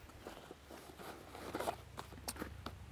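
A single zipper pulled along a pocket of a Vanquest Mobius Vpacker backpack, a short raspy run close up, faint and rustly over quiet handling noise.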